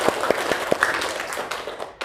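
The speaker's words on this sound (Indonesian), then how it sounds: "tepuk tangan untuk kita semua" Scattered claps from a classroom group at an Indonesian Islamic education lesson, a few sharp separate hand claps over a light broadband hiss of room noise.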